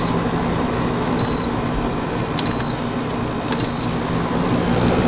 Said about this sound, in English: the loudest part of this air conditioner is the slinger, and even that's not very loud